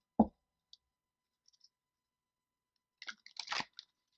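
A deck of tarot cards is shuffled up close, giving a single sharp tap at first, then a short flurry of quiet riffling clicks about three seconds later, surrounded by silence.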